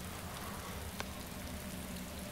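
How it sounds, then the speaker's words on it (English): Rain falls steadily in the DayZ video game, a continuous soft hiss with one brief sharp tick near the middle. "It is definitely raining for me."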